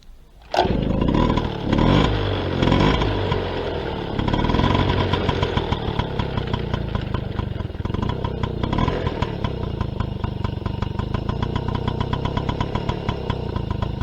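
A 1993 Motobécane AV88 moped with a cold engine and cold exhaust starts after a sharp kick, then settles into a steady buzzing, puttering idle with a quick regular beat. No one speaks.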